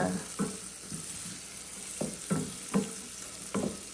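Onion frying in oil in a pan for dal, a steady close sizzle with soft irregular scraping and stirring taps, no talking.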